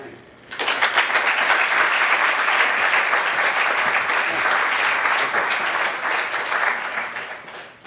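Sustained applause from a lecture audience welcoming Dean David Tseng to speak on a cold day, rising quickly to a dense, even clatter of clapping that holds steady for several seconds before tapering off.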